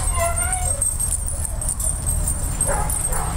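Beagles give high, wavering whimpers and whines, close by, over a constant background hum, with fainter yips and stirring toward the end.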